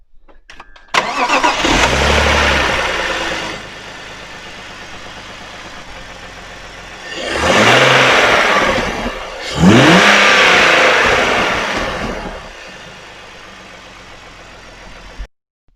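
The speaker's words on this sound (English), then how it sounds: "let's have a listen to the motor from the outside" A car engine fitted with a cone filter intake cranks and catches, then idles steadily with two strong revs rising and falling before it cuts off, heard up close from outside with no talking.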